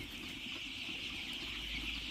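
Black laying-hen chicks kept in a brooder peep in a steady, dense chorus at close range. Low rustling runs underneath and no one talks.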